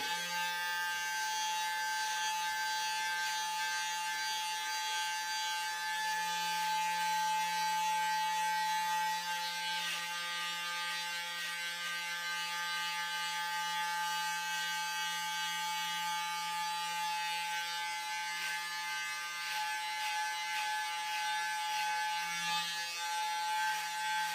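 Electric beard trimmer fitted with a guard running over a short beard, a steady close buzzing whine that holds level throughout with slight shifts as it catches longer hairs along the edges.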